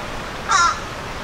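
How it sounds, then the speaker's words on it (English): A single crow caws once, a short, clear, fairly loud call from above near Conowingo Dam, Maryland, over steady outdoor background noise. "We've got a crow up there too."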